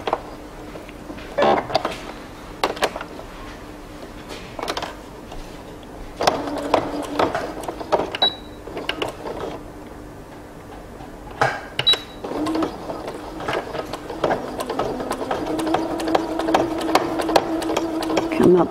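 Home sewing machine stitching a back pocket onto drawstring pants, running in short bursts of rapid, rattling stitching separated by pauses, close and moderately loud, with a person's voice occasionally heard between runs.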